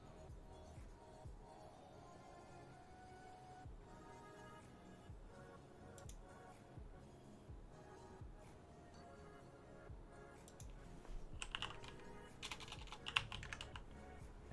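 Typing on a computer keyboard during code editing, a steady stream of soft, close key clicks running throughout, with a denser burst of louder taps near the end.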